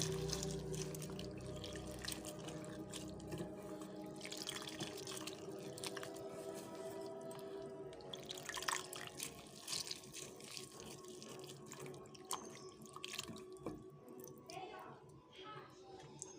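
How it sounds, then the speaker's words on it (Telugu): Water runs and splashes steadily into a pot of lemon rasam, faint and close, with a voice speaking intermittently. "అందులోకి ఇంకా తగినంత నీళ్ళు వేసుకుందాము"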